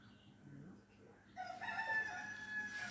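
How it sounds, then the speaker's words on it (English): A rooster crowing outdoors in a backyard garden, one fairly faint, somewhat distant crow rising after a quiet start with soft background noise. "You hear the crow?"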